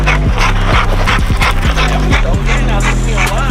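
A working dog tugging on a weighted spring pole gives loud, high-pitched yips and whines in quick bursts, close to the microphone.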